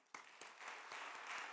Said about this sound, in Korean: 우리 총장님 사모님께 우리 박수 한번 쳐줘요